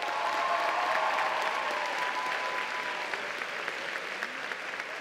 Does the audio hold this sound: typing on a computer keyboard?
no